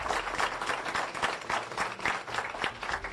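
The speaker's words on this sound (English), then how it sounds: "A round of applause." Audience applause at the grand finale of a 2016 spelling bee, a lively round of hand claps with distinct individual slaps pulsing through a steady crowd wash, fairly close and continuous.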